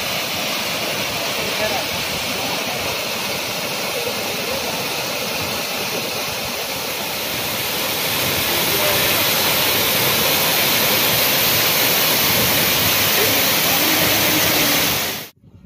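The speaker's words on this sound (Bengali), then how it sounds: "সশব্দে জল নেমে আসছে, আর বর্ষা শুরু হয়েছে, ফলে এখন জলও অনেকটা বেশি।" Monsoon-swollen waterfall rushing beside a mountain road in East Sikkim, a loud, steady, close roar of falling water that never lets up.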